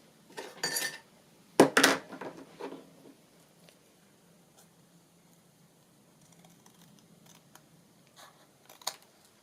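Scissors snip through a craft piece in a quiet room, with a few close, crisp cuts in quick succession near the start, a faint lull, then a couple of light clicks toward the end.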